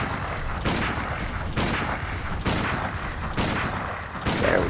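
Gunfire in the Bloodborne video game: five sharp shots fired at a steady, roughly one-second rhythm, loud and close over a dense, rumbling background.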